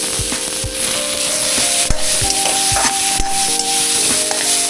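Green peas tipped into a hot pan for a mater paratha filling, giving a steady loud sizzle with scattered scraping and stirring clatter throughout, no voices.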